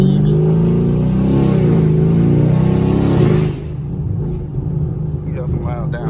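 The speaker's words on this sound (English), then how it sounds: "this car is catless straight pipe and it's loud as fuck" A catless, straight-piped 2016 Camaro SS with a muffler delete and axle-back exhaust revs loud and close, its deep rumble building then cutting off into a lower idle burble with some talk alongside.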